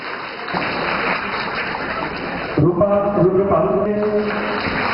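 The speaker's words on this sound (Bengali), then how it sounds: "সবাই হাততালির মাধ্যমে" Audience clapping at a ceremony, a steady spread of applause with some faint voices and a tonal sound rising in the latter half.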